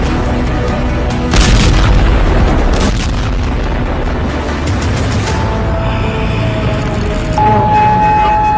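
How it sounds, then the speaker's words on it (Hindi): Heavy explosions from bombing and missile strikes in war news footage, with loud deep booms and rumbling blasts rolling over one another continuously, then fading into lingering rumble with some higher tonal noise near the end. "तेल के जहाज पर बमबारी, सैन्य अड्डों पर मिसाइलों की बौछार।"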